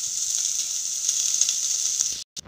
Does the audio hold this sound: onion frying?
yes